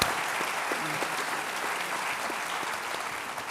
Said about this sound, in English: A round of applause to our speakers and wrap up the panel here.